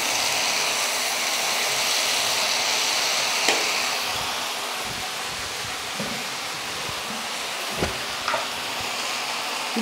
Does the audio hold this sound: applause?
no